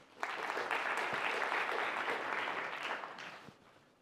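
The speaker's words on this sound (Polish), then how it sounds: "Dziękuję za te oklaski" An audience at an anniversary gala applauds for about four seconds. The clapping is dense and steady, swells in quickly, then fades toward the end with a few last claps.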